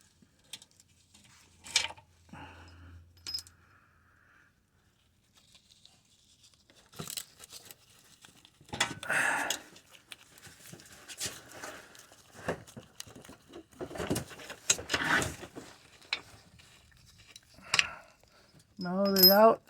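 Radiator bracket bolts being removed on a 2012 Chevrolet Malibu, heard as irregular close metallic clinks, rattles and tool scrapes in scattered bursts separated by quiet gaps.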